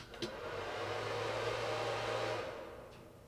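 A LiTime LiFePO4 smart battery charger kicks on when connected, its steady whirring hum rising and running for about two seconds before fading out, with a faint click at the start.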